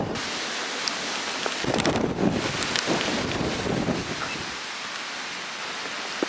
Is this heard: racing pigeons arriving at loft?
no